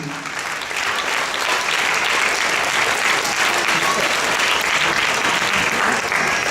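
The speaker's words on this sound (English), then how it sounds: "Let's keep those applause going." A crowd at a school Shakespeare drama competition awards ceremony applauds loudly and continuously for several seconds, a thick, even roar of many hands clapping with no voices rising above it.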